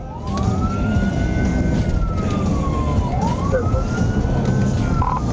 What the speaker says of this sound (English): activated his hazard lights and siren